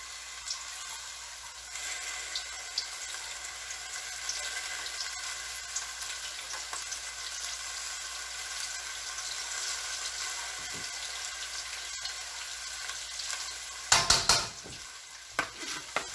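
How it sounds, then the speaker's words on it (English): Chicken thighs sizzle steadily in a hot pan, a continuous frying hiss, then a few sharp clatters near the end. "It looks like little chicken thighs frying away in there."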